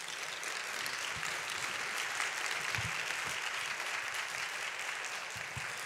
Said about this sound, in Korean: 나오실 때 우리 감사의 마음으로 큰 박수로 환영하도록 하겠습니다